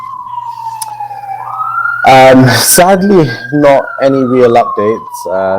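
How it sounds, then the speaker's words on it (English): A police siren wails steadily in the background, gliding slowly up and down, while someone talks over it close by. "Sorry about the police sirens in the background."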